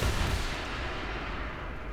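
A LOSAT rocket fired in War Thunder bursts out as a loud, dense roar that trails off into a steady rushing noise over about two seconds, with no voices.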